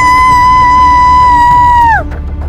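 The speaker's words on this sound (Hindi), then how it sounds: "और भयानक आवाज में चिल्लाने लगी।" A terrifying scream from a horror cartoon yakshini, a loud sustained high tone held steadily for about two seconds before bending downward and cutting off, very close and overpowering.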